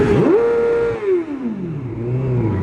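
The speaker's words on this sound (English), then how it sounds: "He revved at me, so I revved back." A nearby vehicle engine revs hard, pitch sweeping up quickly, holding high, then falling away into a lower drone, loud and alone without talk.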